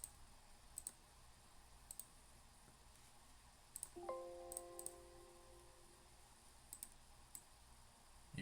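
A few sharp, quiet mouse clicks come in small pairs and singles, spread apart, while questions from a web page are printed, with a brief soft chime in the middle against a faint background.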